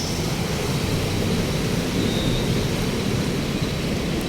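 Heavy rain pours on a city street in Metro Manila, a dense, steady roar of noise that stays constant and loud with no voices.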